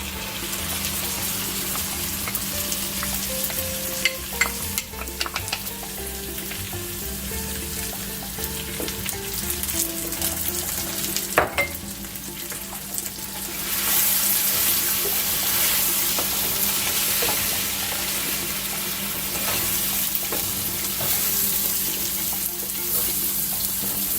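Tomato puree sizzles steadily in a paella pan with chicken and seafood, a continuous broadband frying hiss that grows louder and denser partway through, with occasional stirring clicks and no talk.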